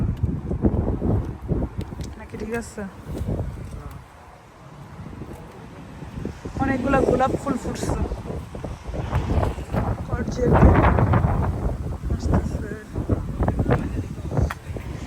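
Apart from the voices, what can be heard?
strong wind blowing outdoors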